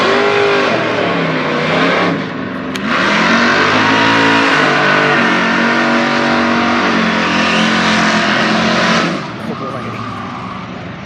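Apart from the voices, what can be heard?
drag race cars, a 1969 Chevelle and a Dodge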